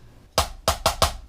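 Four clean drum hits, evenly weighted with no grace notes or accents, a short sparse pattern played alone.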